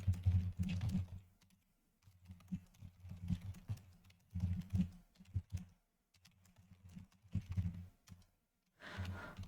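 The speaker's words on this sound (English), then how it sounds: "I'm going to type that out for you." Bursts of typing on a computer keyboard, quick clustered keystrokes in several separate runs with short pauses between them, close and fairly quiet.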